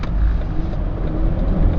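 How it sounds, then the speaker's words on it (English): A 2007 Volvo XC90 with a 2.4 diesel engine drives along with a steady, droning, whiny engine note, heard from inside the car with road rumble underneath. "the engine sounds like a hairdryer"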